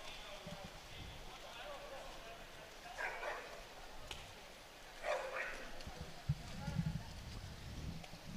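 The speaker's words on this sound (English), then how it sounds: "Sounds like we've got a dog on the pool deck here." A dog barks a few times on the deck of an indoor pool during a men's water polo match at the Los Angeles Athletic Club, the short yelps fairly distant and mixed with crowd murmur, splashing and a commentator talking.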